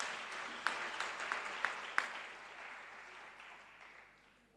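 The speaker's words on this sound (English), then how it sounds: "Let's give her a hand." An audience at a bicycle handover event applauds, a broad wash of clapping with a few sharp louder claps early on, fading gradually toward the end.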